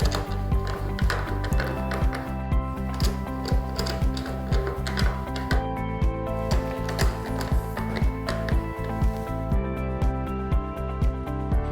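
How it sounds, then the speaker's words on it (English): A wrench tightening bolts during maintenance, giving a steady run of close, rhythmic ratcheting clicks over a constant tonal hum throughout. "Further tighten the bolts using the wrenches."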